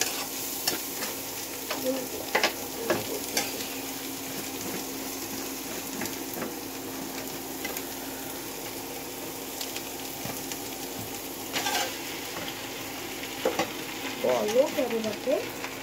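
Noodles stir-fry in a scorched wok, a low continuous sizzle broken by scattered clinks and scrapes of the spatula, fairly faint and steady throughout.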